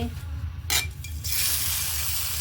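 Crushed onion, garlic, cumin, salt and turmeric paste fries in oil for a Bengali tengra fish curry, a short burst of stirring scrape followed by a steady sizzle that rises and holds.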